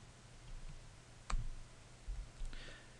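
A computer mouse clicks while topics are removed from a MindManager map, a sharp isolated click near the middle over a faint room hiss, with a few softer taps later.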